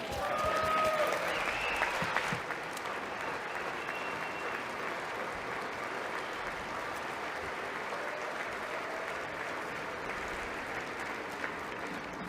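An audience in a chamber applauds a line of a speech, with loud sustained clapping that fades slightly after the opening seconds and then carries on steadily to the end.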